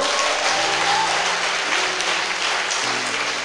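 A church congregation at an Abidjan retreat claps and cheers in praise of God, a dense, sustained wall of applause filling the whole stretch evenly.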